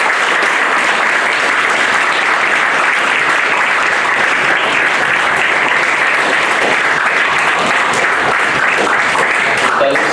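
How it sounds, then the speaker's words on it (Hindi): Audience at an award ceremony applauding, dense sustained clapping from a large crowd, loud and even throughout with no break. "तालियां आप अपने लिए बजाइए।"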